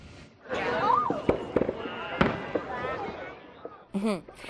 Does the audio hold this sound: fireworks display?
yes